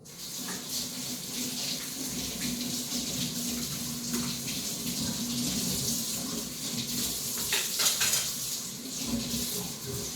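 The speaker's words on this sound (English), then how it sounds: "I'm just going to quickly wash this thing" Tap water runs steadily while a PUR Basic 7 cup pitcher is rinsed in a sink, a close continuous splash with light plastic knocks and clatter, no speech.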